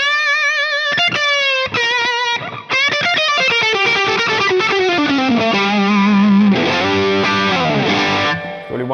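Distorted S-style electric guitar played through the bridge pickup with tone full up, fast lead runs and sustained bent notes ringing loud and saturated throughout, no voices.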